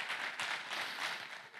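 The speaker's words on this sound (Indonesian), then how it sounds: "Beri tepuk tangan buat nama Tuhan" A church congregation claps during a Sunday sermon, a steady wash of applause heard faintly at a distance with no voices over it.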